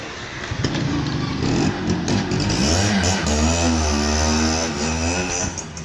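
Motorcycle engine running close by, idling roughly at first, then revving up into a loud, rising drone and holding the higher pitch with slight wavering.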